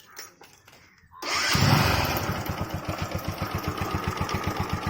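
A Bajaj Pulsar 135 motorcycle fitted with an automatic chain adjuster starts up after a few faint clicks, then settles into a steady, close, rhythmic idle that thumps evenly to the end.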